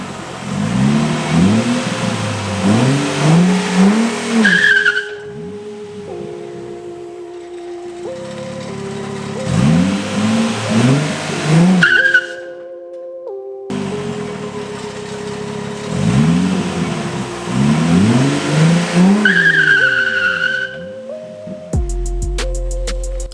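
A drift car's engine revs hard in three repeated runs, climbing through gears with rising whines and brief squeals, pausing and idling between bursts during a limited slip differential test, loud and close.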